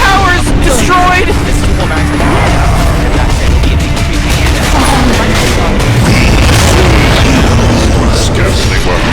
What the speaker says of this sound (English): Oh, Radiant's middle tower is destroyed!